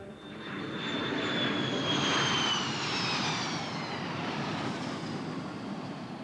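Jet engines of a thirty-year-old B-52 bomber roar steadily as the aircraft passes, a broad rumble with a whining tone that swells to a peak and slowly fades, heard alone without voices.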